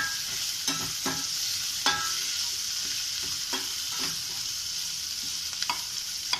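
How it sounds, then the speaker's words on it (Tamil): Ginger paste fries in a pan under a constant close hiss of sizzling, broken by a series of spatula scrapes and knocks as it is stirred, with no voices. "ஒரு ஜிஞ்சர் பேஸ்ட் நடுவில் பிடிக்க வாய்ப்பு இருக்கிறதுனால அதை நல்லா கிண்டி விடுவோம்"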